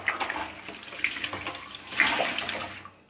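Water runs and splashes while a bathroom is rinsed clean after a chemical-free cleaning product, giving a close, continuous gushing hiss with uneven surges.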